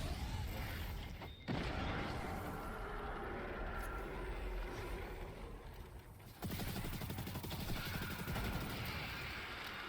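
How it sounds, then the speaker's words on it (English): Rapid SMG fire from the Destiny 2 video game, in a Grandmaster Nightfall fight against Thrall, comes as dense, steady bursts of clattering shots over a loud, busy game soundscape, with a brief pause between bursts. "An SMG is also the perfect thing to take out just groups of Thrall just beelining it at you"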